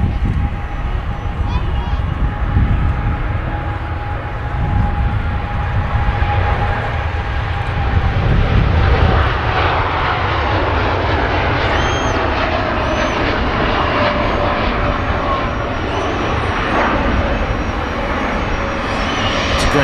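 An Etihad Boeing 787 Dreamliner on its takeoff roll at Manchester Airport, a sustained broad engine roar heard from a distance and building steadily, with a voice talking over it.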